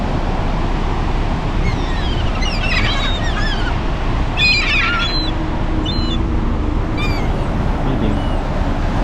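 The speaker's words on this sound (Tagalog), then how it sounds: "Ibon." Birds honking at Torrey Pines beach in La Jolla, several short calls near and far over steady surf and wind noise, with voices now and then.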